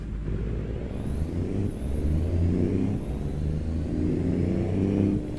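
A truck engine in American Truck Simulator drones and revs in a looped, sampled-sounding way, swelling and easing at a steady moderate level with a faint high whine above.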